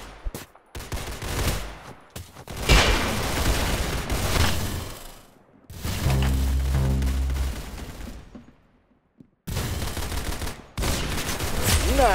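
Bursts of rapid gunfire in the Roblox-style shooter Arsenal, loud fusillades and sustained automatic fire broken by short gaps, with players chatting over the shooting.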